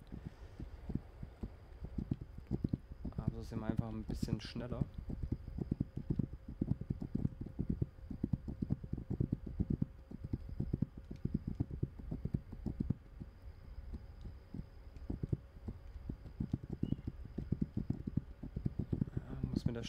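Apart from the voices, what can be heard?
horse hooves clip-clopping while riding in video game This Land is my Land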